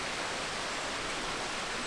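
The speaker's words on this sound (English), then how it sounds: "You only hear the small river" Small river flowing at the entrance of Smoo Cave, a steady broadband rushing wash that stays even throughout, moderately loud, with no voices.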